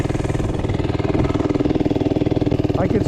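A cheap Temu mini bike's small engine labors under a heavy rider, a close, steady pulsing putter with a faint rising whine near the end as a voice speaks over it.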